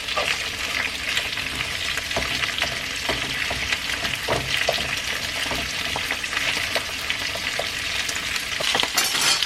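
Head-on shrimp fry in oil in a pan for Mexican-style crispy fried shrimp, producing a dense, continuous sizzle with scattered crackles and pops, close and steady throughout.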